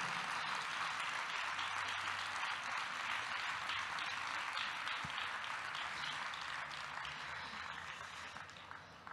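An audience applauding to welcome Gemma Calabresi Milite at a book event, with dense, sustained clapping from many hands in a hall that fades a little toward the end.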